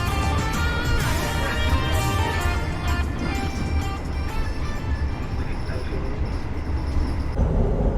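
A steady, loud rolling rumble continues throughout as the Gajayana passenger train, with new-generation stainless executive cars, runs through the Kertosono junction where the lines from Surabaya meet.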